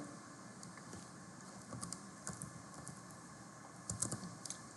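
Light, steady typing of Python code on a computer keyboard, a scattered run of soft close key clicks with a few slightly louder taps over a faint background hiss, no voices.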